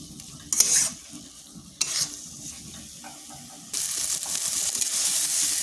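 A medium tomato stirred into a frying vegetarian radish curry in a pan: spatula scrapes and stirring bursts over sizzling, giving way to a louder, continuous hiss of frying in the second half.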